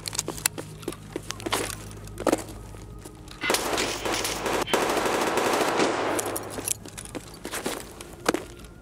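Bolt-action rifle fire in the Escape from Tarkov video game: several sharp, loud shots spread across the span, with a denser noisy burst in the middle and scuffing movement between them.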